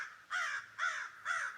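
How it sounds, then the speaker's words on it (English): A single crow caws three times in an even rhythm, harsh and fairly loud, with nothing else audible around it. "it's a crow, not an audience"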